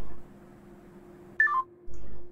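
A few short tones sound as a telephone is dialed in the Henry Stickmin Collection game, set between brief bursts of noise with a steady hum underneath.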